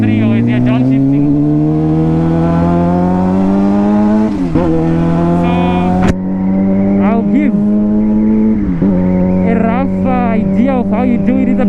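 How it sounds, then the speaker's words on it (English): A motorcycle engine blips and revs to match speed during a street-riding downshift, loud and close, with rising and falling harmonic tones; a voice speaks over part of it. "You're trying to match the speed of the engine with how you are decelerating."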